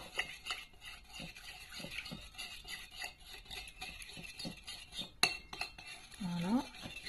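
A spoon clinks and stirs in a glass of water to dissolve leavening for bread dough, with repeated light metallic taps and swirling scrapes, close up, ending in a brief rising squeak.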